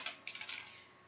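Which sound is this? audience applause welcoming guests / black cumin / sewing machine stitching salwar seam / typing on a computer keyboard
typing on a computer keyboard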